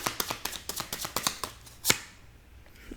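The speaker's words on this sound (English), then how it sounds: "Let me just pull the cards." Tarot cards are shuffled by hand in a series of quick, crisp riffles and taps, close and fairly quiet, ending with a sharper snap before the sound fades.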